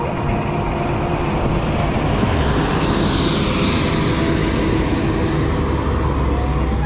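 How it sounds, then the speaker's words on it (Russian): A loaded 40-tonne KamAZ heavy truck labours on a Crimean road, its diesel engine giving a steady, loud low roar that builds slowly without pause across the whole stretch. "Давай, КамАЗ, быстрей, газуй."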